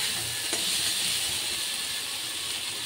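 Bele fish pieces dropped into a pan with mustard and poppy seed paste, a faint, steady sizzle and hiss of frying with soft bubbling underneath, continuous and without talk.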